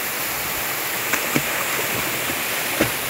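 The Caripina waterfall in Felipe Guerra, Rio Grande do Norte, gives a steady, broadband rush of falling water, with a few faint knocks and splashes rising briefly out of the constant roar.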